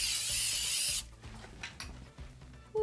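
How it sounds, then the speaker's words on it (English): A loud, steady hiss of an aerosol spray glue can sprayed onto jute webbing for about a second, followed by quieter rustling and handling noises nearby. "You're gonna spray the spray glue directly onto the jute webbing"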